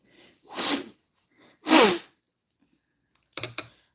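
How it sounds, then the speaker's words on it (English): A person blows their nose twice in forceful nasal bursts, then gives a quicker double snort, with quiet pauses between, while suffering from allergies. "I gotta just blow my nose a little bit"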